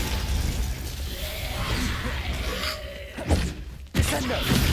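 Glacius freezing spell firing in Hogwarts Legacy, a sharp icy shattering crack with a thud near the end, over steady game music and effects.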